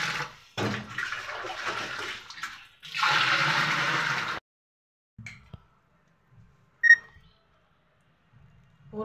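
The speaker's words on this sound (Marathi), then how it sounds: "पूर्ण माठ भरून घेणार आहे पाणी." Water poured into a clay water pot, gushing in two bursts of a few seconds each, followed by quiet with small scattered clinks and drips, no speech.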